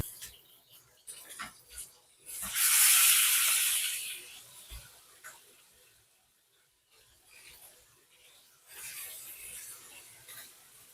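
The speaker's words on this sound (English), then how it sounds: "as you sear in your meat, you want to cover your pot to prevent the oil from spilling" Beef ribs searing in hot oil in a partly covered pot give a loud hissing sizzle that swells, then fades, with a second, quieter sizzle near the end and faint clatter in between.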